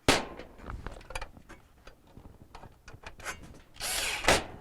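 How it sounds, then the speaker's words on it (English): Quarter-inch mounting bolts being tightened on a Whirlpool dryer, with a series of short ratcheting and driver bursts, close and moderately loud, ending in a longer whirring run. "So we'll begin by putting in the 1/4 inch mounting bolts."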